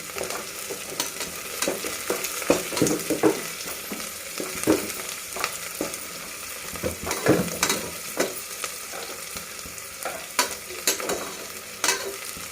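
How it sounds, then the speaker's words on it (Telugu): Onions fry with kasuri methi and pulao spices for mushroom biryani, a continuous close sizzle broken by repeated scraping stirs of a spoon against the pan, no talking. "ఈ ఆనియన్స్ బాగా వేయించిన తర్వాత నెక్స్ట్ మనము ఇప్పుడు పలావ్ ఐటమ్స్ లైక్ కస్తూరి మెంతి ఆకు అన్నీ వేసి ఇంకా బాగా వేయించుకుందాం."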